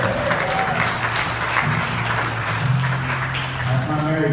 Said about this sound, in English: Married people clapping there, they know